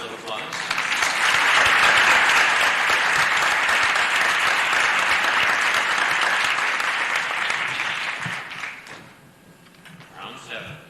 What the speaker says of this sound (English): we will excuse those who were incorrect with a round of applause